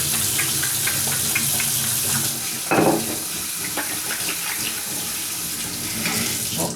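Water runs from a kitchen tap into a glass with a steady hiss and splash. A brief louder gush comes partway through, then the flow settles back.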